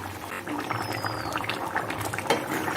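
Mutton curry with potatoes and green chillies, simmering after water is added: a steady bubbling and sizzling close by, continuous and moderately loud.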